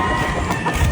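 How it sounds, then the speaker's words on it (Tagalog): A hen clucks on a farm in a one-second burst, dense bird vocalizing with some rooster-like tone among background noise, no speech. "Kuya Obit, meron akong dalang babaeng manok."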